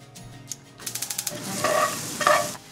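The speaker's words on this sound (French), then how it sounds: "on va aller dans la poêle faire chauffer des échalotes avec un petit peu d'ail" Shallots with a little garlic in a frying pan, heard as a run of quick clicking stirs followed by a steady close sizzle with scraping strokes.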